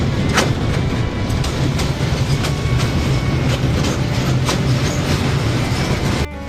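The Lalmoni Express train rumbles loudly and steadily across the Teesta railway bridge, with a dense roar of wheels and rhythmic clicking carrying through the whole passage, heard from on board.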